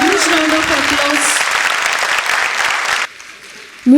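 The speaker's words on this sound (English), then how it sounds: "Please give them a huge round of applause." Audience applause at a Kidzee Chaudhari Park preschool annual day event: loud, dense crowd clapping for about three seconds with an announcer's voice over the start, then cutting off abruptly to near quiet.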